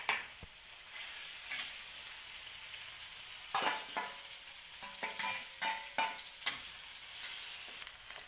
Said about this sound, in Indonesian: Setelah harum, kita masukkan telur yang sudah kita pecahkan tadi